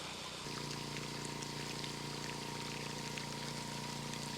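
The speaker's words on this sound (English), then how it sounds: "You can see it trickling down." Rainwater trickles from spouts into a garbage can used as an off-grid rain catchment, a steady continuous splashing pour that starts abruptly after a brief quieter moment and runs on without talk.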